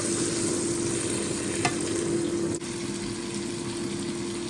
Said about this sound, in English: here our onions are frying for the stew